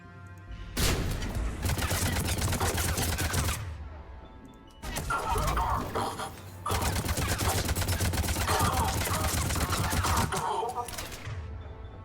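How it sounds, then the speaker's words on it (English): Heavy gunfire and frag grenade blasts in the Mass Effect 3 shooter, two long loud bursts of dense combat noise separated by a brief lull, with sharp explosive hits among rapid shots. "Frag grenades."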